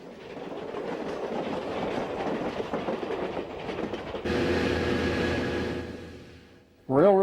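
A model Southern Pacific Daylight passenger train rumbles steadily along the tracks with a rattling, clattering texture, shifting to a brighter whirring tone partway through, then a brief voice at the end.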